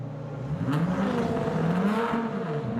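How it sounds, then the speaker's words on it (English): Lotus Cup race car engine at Nürburgring qualifying, a steady loud rev rising and falling in pitch for a few seconds, heard alone without talk. "Okay, revving the engine."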